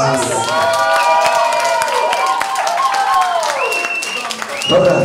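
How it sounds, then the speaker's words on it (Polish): Audience at a children's show applauds and cheers, with sustained clapping blending into loud, sung-like voices and shouts throughout, a brief lull near the end before the noise swells again. "Duże brawa dla was!"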